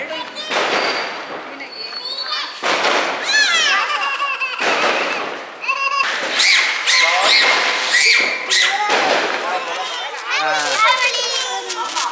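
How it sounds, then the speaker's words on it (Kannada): Diwali firecrackers pop and crackle in short bursts amid lively children's chatter, giggles and laughter, close and busy throughout. "ಹೆಂಗೆ ಪಟಾಕಿ ಹೊಡಿತಾ ಇದ್ದಾಳೆ ಇಲ್ಲಿ"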